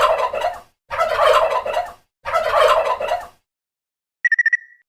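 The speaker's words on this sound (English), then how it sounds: "Turkey gobble." A turkey gobbling in three loud, rapid warbling bursts separated by short pauses, followed by a brief high chirping sound, with no voices.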